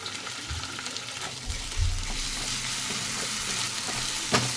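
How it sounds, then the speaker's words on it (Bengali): Ginger-garlic paste fries loudly in a pan, a continuous close sizzle broken by a few scraping stirs and knocks of the spoon. "ভালো করে ভেজে নেব এটাকে কাঁচা গন্ধটা চলে যাবে"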